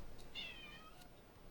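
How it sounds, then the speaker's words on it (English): A cat meows once in a game, a short clear cry near the start over a low steady background hum. "The dog is chasing the cat."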